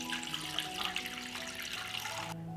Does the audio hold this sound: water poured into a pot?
yes